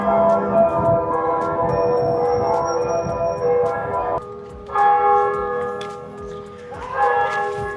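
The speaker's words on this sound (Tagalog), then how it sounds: "Sakto yung bell. It's the big bell." A big church bell rings out in loud, resonant strikes, each leaving a long humming decay, with a brief pause before further strikes follow; a voice speaks faintly in the background.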